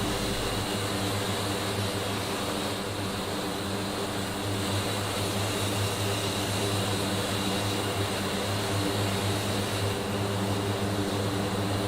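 A simulated aircraft's port engine spools up in the DCS flight simulator, a steady broadband roar with droning low tones that holds loud and constant throughout, with no talking.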